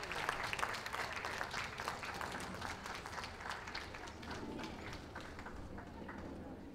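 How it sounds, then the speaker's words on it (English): A dog show crowd at Windsor 2015 applauds the utility group winner, a German Spitz Klein, with brisk, dense clapping that is strongest at first and gradually thins and softens. "a big round of applause for the winner of the utility group here at Windsor 2015"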